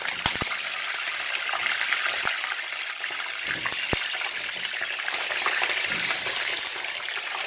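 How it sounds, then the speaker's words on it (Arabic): A whole washed eggplant fries in hot oil in a pan that has already been used for onions, giving a steady close-up sizzle with scattered sharp crackles and pops, and no voices. "غسلنا البتنجان هنحطه في الزيت كده سليم"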